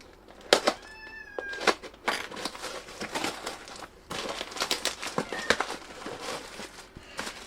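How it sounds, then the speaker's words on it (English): A house cat meows several times indoors, with rustling and crinkling of packaging and tape nearby; no one speaks. "Okay, the cat's here."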